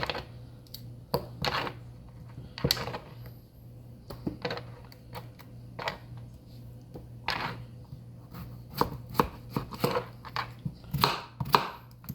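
Knife chopping apples into big chunks on a cutting board, a series of sharp irregular thunks at close range, alone with no talking, a low steady hum underneath.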